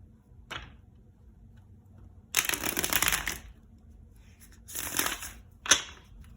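Tarot cards shuffled in short bursts: a quick riffle, a longer crisp shuffle, then another riffle ending in a sharp snap, with quiet pauses between.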